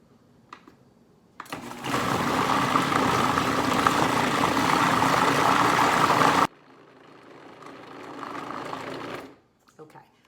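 A mixer whirs through cheesecake filling of cream cheese and chocolate, starting abruptly loud and steady for several seconds, then dropping to a quieter run before cutting off, with a brief voice at the edges.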